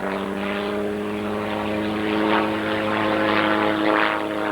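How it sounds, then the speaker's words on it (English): A 160 Gnome rotary engine drives a radio-controlled Sopwith Camel model at an old-aerodrome RC jamboree. It gives a steady, loud, buzzing propeller drone with a rich harmonic hum, surging slightly as the plane passes, and no voices are heard. "Listen to that 160 gnome on that Sopwith Camel."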